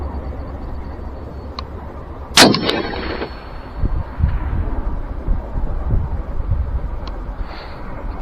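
A single sharp rifle shot cracks out at a target 820 yards away on an outdoor range, followed by a faint distant clang of the steel being hit, with light wind noise before and after.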